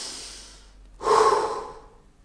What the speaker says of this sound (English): when we're all stressed and tight and trying to worry about what we're doing, what we're creating, we're breathing shallow.